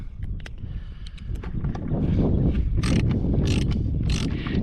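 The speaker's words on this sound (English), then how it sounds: "Probably gonna have to finish that up with a ratchet." A hand ratchet snugs a half-inch bolt into wood while a high water alarm is replaced, giving quick clicking strokes over a steady background rush, with sharper bursts of clicks in the second half.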